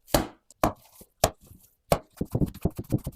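Minced meat for cutlets being beaten against a surface: a series of sharp, close slaps, spaced widely at first, then coming in a quicker, steadier rhythm with no talking.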